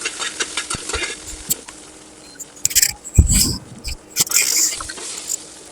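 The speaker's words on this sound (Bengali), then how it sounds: "এখন আমি কাঁচা মরিচটা ভেজে নিব" Green chilies frying in a pan after dried chilies, ahead of prawn heads for a mashed dish, heard as crackling sizzle and stirring scrapes with louder bursts of spatter, while a voice talks faintly.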